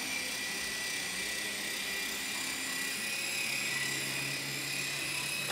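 A steady, high-pitched whirring buzz holds without a break, an Air Hogs Fly Crane toy remote-control helicopter's rotor spinning nearby.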